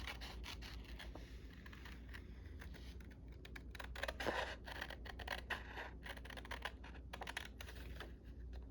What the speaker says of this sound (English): And I am going to cut this straight like this.